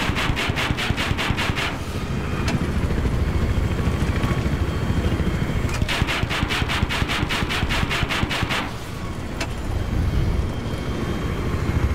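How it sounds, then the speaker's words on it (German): A helicopter in Battlefield 3 multiplayer conquest on the Kharg map thuds overhead with rapid rotor chopping that swells in two bursts over steady engine and wind noise. "Endlich mal ein Heli abgeschossen."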